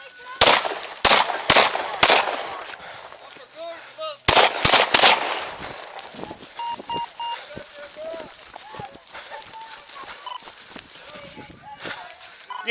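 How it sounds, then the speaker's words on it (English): Several gunshots fired during a struggle with an armed sheriff, a loud burst of sharp cracks near the start, a short gap, then more close shots, followed by fainter clatter and beeping. "Shots fired."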